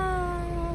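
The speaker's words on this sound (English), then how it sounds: "Out here with the kitties, you guys." Cats outdoors in Jamaica give a single brief, close, sustained meow, loud and alone, with no talking.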